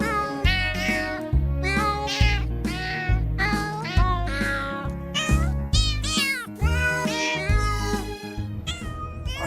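Novelty recording of cats meowing in a sung melody, a continuous run of loud, close, pitched meows and yowls strung together rhythmically like a tune.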